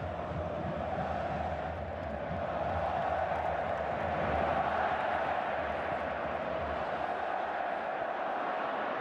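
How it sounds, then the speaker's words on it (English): Football stadium crowd of about 78,000 at the Santiago Bernabéu during a Real Madrid versus FC Barcelona Spanish Super Cup match, a steady loud roar of massed voices that swells slightly midway and holds without a break. "Just listen to the crowd."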